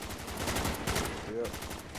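Rapid automatic gunfire from the zombie video game Call of the Dead repeats in a steady, fast rhythm of shots, with faint voices beneath.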